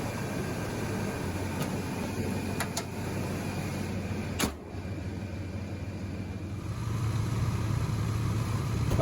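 A Chevrolet S10 truck engine idles in park with a steady low hum and rumble, joined by a few faint clicks and a slight rise in drone toward the end.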